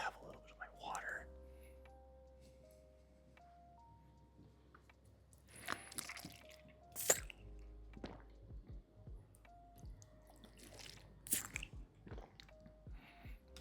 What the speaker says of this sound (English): I'm just gonna have a little bit of my water.